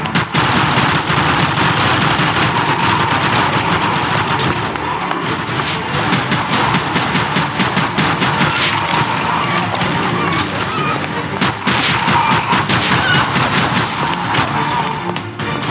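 Rapid gunfire in the zombie shooter Zombie Stories, loud continuous bursts of shots layered with crashes and action noise throughout, dense and unbroken from start to finish.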